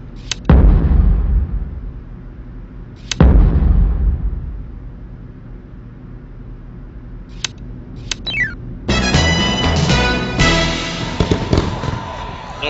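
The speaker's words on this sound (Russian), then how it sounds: "бомба взрывает всю медь стен" Bombs explode in a Nancy Drew video game, blasting through copper walls: two loud, deep booms a few seconds apart, then sharper smaller bangs and a dense crackling burst of debris.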